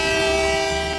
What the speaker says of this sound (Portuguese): Ouve-se o apito do barco.